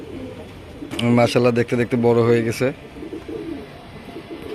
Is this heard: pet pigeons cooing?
yes